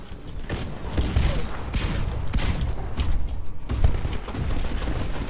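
Shotgun blasts in the video game Titanfall campaign level Assault on the Sentinel, repeated heavy booms over dense ongoing combat noise, loud and close throughout.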